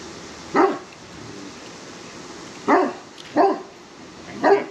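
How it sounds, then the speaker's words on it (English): A dog barks at ducks in a neighbour's yard, giving four separate loud barks spaced unevenly over a few seconds with low steady background noise between them. "She's barking at the ducks."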